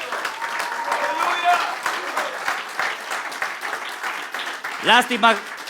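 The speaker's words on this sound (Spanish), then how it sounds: "démosle un fuerte aplauso al Señor, hermano" Church congregation claps in a strong, sustained round of applause during a sermon, with voices shouting and speaking over the clapping and a loud vocal outburst near the end.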